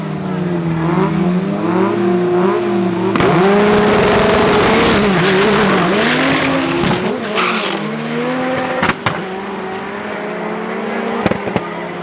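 A Honda drag race car at a UDL championship round at Midvaal Raceway roars down the strip with a loud, sustained engine note climbing and dropping through gear changes, a continuous near-field blast with crowd noise beneath.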